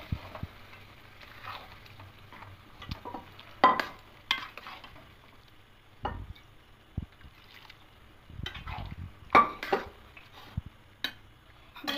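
Khichuri thinned with water is stirred in a pot with scattered, brief scrapes and wet slaps of the spoon, mostly soft with a few sharper strokes against a quiet background.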